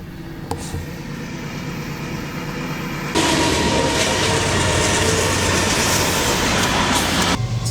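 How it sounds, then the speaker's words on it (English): Train rumbling past beneath a bridge, a steady loud roar of rail wagons and wheel noise that swells suddenly midway and holds, continuous with no talking. "We actually got a train coming through right now."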